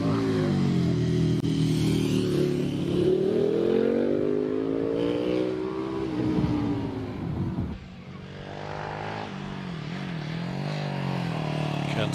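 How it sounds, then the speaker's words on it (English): A big-engine KTM 1300cc motorcycle races up the Prescott hill climb course, its engine revving and rising in pitch as it accelerates, loud and continuous, with a commentator's voice running over it. "to be followed by Stu Mills on a big engine KTM 1300cc."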